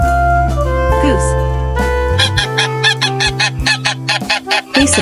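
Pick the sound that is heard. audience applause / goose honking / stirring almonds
goose honking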